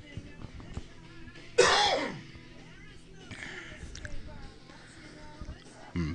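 A single sharp cough bursts out over quiet background talk, loud and close, with someone speaking before and after it.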